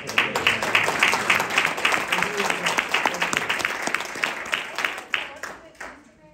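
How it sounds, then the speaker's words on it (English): Audience applause at a mayor and council meeting, a dense patter of many hands clapping steadily for several seconds, then thinning out and fading near the end. "I would like to give you a round of applause"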